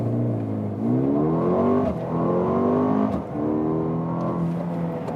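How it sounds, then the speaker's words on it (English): A Mercedes-AMG GLB 35 4Matic SUV launches hard in Sport Plus mode, its engine revving loudly and climbing through rising tones with brief dips at each quick shift of the 8-speed dual-clutch gearbox, close and continuous. "Let's start with the launch control in the Sport Plus mode"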